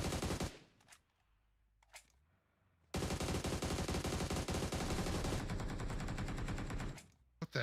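AUG rifle fire in PUBG Mobile, a long sustained automatic burst of rapid, loud shots lasting several seconds after a few brief earlier bursts and a quieter gap.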